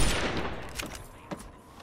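Video game gunfire in Fallout 3, a fast fusillade of shots with two sharper reports standing out over a steady rattle, close and fairly loud with no talking.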